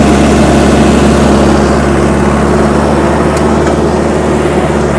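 A John Deere 450 crawler loader with low power runs loud and close, its heavy low engine drone steady and unbroken throughout.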